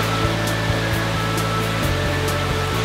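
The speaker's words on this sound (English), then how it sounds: "We're coming up towards the main waterfall." Minoo Park's main waterfall in Osaka, Japan, makes a steady broadband rushing roar. It is continuous and fairly close, with a low hum beneath it and no voices.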